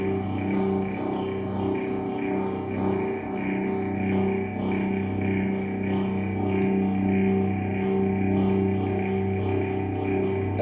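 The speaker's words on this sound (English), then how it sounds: "Let's see if we can modulate the intensity of the phase shifter." A Roland System-700 modular synthesizer plays a continuous, dense droning tone through a phase shifter whose intensity is modulated, giving a swirling, distorted, reverberant texture that holds at a steady loudness throughout.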